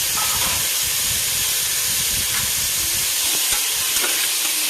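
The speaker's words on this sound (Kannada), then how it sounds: "ಮಿಕ್ಸ್ ಮಾಡಿಕೊಂಡು ಚೆನ್ನಾಗಿ ಫ್ರೈ ಮಾಡಬೇಕು. ಅದೇ ಸಮಯದಲ್ಲಿ ಟೊಮ್ಯಾಟೊ ಹಾಕೋಬೇಕು." Tomatoes and spices fry and get stirred in a pan while cooking jeera rice and dal sambar, giving a steady close sizzle and hiss with scattered scraping stir sounds and no talk.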